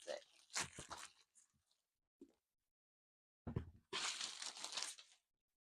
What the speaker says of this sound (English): So I'm just going to slit through the opening on the top of the cup and peel off the plastic.